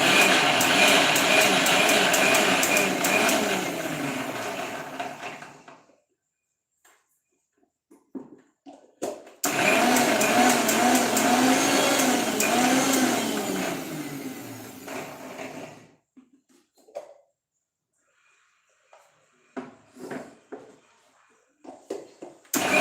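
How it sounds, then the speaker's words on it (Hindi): A kitchen mixer grinder coarsely grinds ingredients in its jar. Two loud, roaring runs of about six seconds each are separated by a pause, followed by light clatter and handling noises. "तो इसको मैं जार में डाल दी हूँ, अब इसको कर रही हूँ मैं ग्राइंड।"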